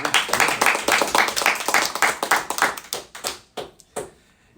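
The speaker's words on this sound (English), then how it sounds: "So a round of applause for Zev" A small audience claps for a guest on a talk program, a burst of quick distinct hand claps that thins out and trails off into a few scattered final claps near the end.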